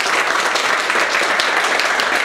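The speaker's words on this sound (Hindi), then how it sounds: "मेरे दुर्गेश सर के लिए बस जोरदार ताली बजाइए सर" Loud, dense applause from students in a classroom during a mobile hardware course, a continuous wash of many hands clapping at once with no voices heard.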